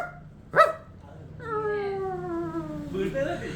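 A voice imitates a police dog, with a sharp yelp followed by a long, drawn-out whining howl that slides downward and then breaks into rough yelping, close and fairly loud against faint room noise.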